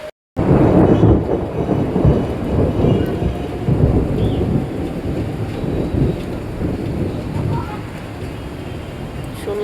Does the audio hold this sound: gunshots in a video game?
no